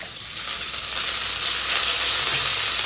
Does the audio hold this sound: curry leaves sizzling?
yes